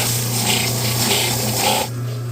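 Steady raspy sanding of wood, close and continuous with a slight back-and-forth swell, stopping near the end to leave a faint hum.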